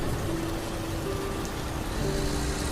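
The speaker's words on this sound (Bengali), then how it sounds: "ট্রাক আরো কিছুটা যেতেই আরো জোরে বৃষ্টি শুরু হলো।" Heavy rain pours steadily in a dense, continuous hiss of drops on surfaces, loud and unbroken, as an audio drama sound effect for a storm on a night drive by truck.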